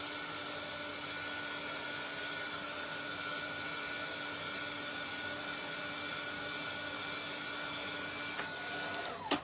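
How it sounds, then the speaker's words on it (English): Heat tool drying alcohol ink on a stencil, a steady loud fan-like blowing roar held close throughout, cutting off abruptly at the end. "I'm just going to zap it with a heat tool just to make sure all that ink is dry."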